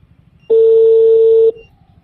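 A single steady electronic phone-call dialing tone rings out for about a second, loud and clear against a quiet background.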